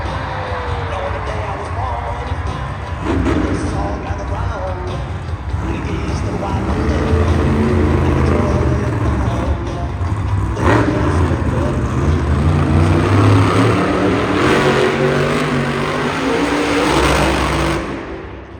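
Grave Digger monster truck, driven by Kristen Anderson, revs its engine in a loud, sustained roar during a donut challenge at the Moda Center arena, with an announcer's voice booming over the engine.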